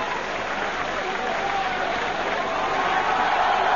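A boxing arena crowd applauds and cheers the winner of a bout between Dariusz Michalczewski and Virgil Hill, a dense steady roar of clapping that swells slightly toward the end.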